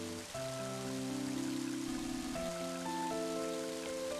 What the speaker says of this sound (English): Let's just hope this rain puts out the fire.